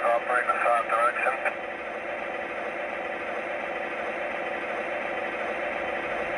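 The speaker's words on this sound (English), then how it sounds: "There is a horn with accompanying cab chatter." A model train sound system plays a radio-style cab chatter burst with a horn over it for about a second and a half, then a steady engine idle hum continues alone.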